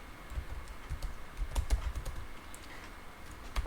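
Quick, close keystrokes clatter on a computer keyboard as spreadsheet data is entered, an irregular run of soft taps and sharper clicks with no talking.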